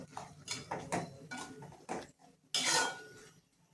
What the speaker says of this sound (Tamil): அதை இறக்குறதுனால 2 நிமிஷம் வச்சு கிண்டிக்குவோம்